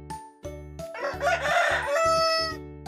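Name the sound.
rooster crowing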